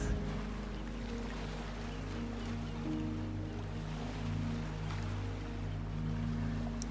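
Ocean waves wash steadily onto a shore in a continuous, soft hush beneath sustained, gentle music tones, with no distinct surges and no voices.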